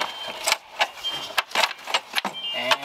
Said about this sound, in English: we should be able to just lift the airbox straight up